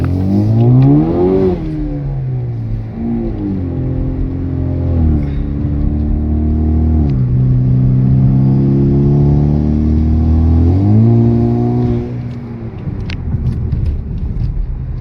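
A tuned 2017 Camaro with a turbocharged four-cylinder engine drives on the street, its engine revving up through the gears in loud, rising sweeps with brief drops at each shift, close and continuous.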